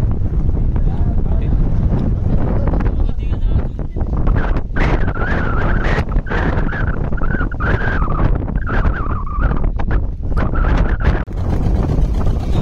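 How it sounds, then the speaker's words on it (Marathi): A fishing boat heads out for trolling, its engine rumbling loud and steady under heavy wind buffeting, with a higher whine rising and falling through the middle. "बोट निघाली आहे ट्रॉलिंगसाठी"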